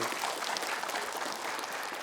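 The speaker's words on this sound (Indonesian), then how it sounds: "Boleh tepuk tangan lagi." A studio audience applauds during a television religious program, a dense, steady wash of clapping for a couple of seconds with no one speaking over it.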